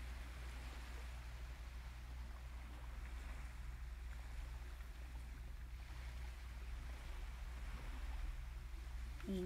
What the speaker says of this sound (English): Only listening to my voice and the sound of the ocean.